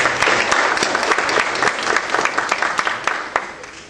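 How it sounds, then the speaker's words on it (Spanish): A large audience claps loudly and continuously, a dense wash of applause that holds steady and fades slightly near the end. "un fuerte aplauso"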